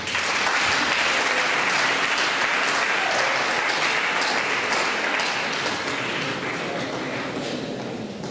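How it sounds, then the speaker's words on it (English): Sustained applause from a large crowd at a schools music festival in Kampala, dense and loud clapping that fades slightly toward the end. "give a round of applause to our students who have entertained us"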